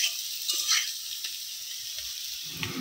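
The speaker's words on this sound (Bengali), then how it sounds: "এই যে মশলা দিয়ে খুব ভালো করে কষিয়ে নিয়েছি" Spices fried with salt and turmeric sizzle steadily in a pan, a close, continuous hiss with a few soft stirring scrapes and no talk.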